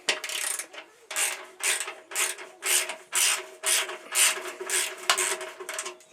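A ratcheting wrench makes about eight rhythmic bursts of clicking and rasping, close by, as it loosens 12mm bolts on the cross member of a 2002 Triumph Bonneville America motorcycle. Short pauses separate the strokes, and no one speaks.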